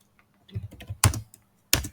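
Computer keyboard typing while writing Java Spring Boot code, a few short bursts of close, crisp keystrokes separated by brief pauses, with no voices.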